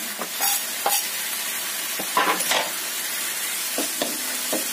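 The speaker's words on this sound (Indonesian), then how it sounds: "Aduk hingga semuanya tercampur rata" Mashed tofu and chopped spring onions stirred in a pan, with scattered scraping clicks and soft knocks of a utensil over a light, steady sizzle, close and fairly quiet.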